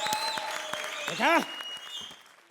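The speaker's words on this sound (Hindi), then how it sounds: "तालियां बजाओ" Studio audience applause at a Comedy Circus comedy show taping, a fairly steady clatter of clapping mixed with a voice, background music and a brief swooping sound effect.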